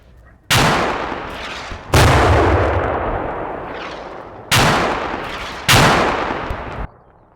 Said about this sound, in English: This is mortar fire coming down at the North Bridge.